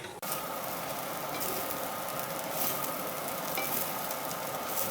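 Fried rice sizzles steadily in a hot pan while being stirred, a dense continuous frying hiss with faint scraping that runs evenly for the whole stretch, close and fairly loud with no talking.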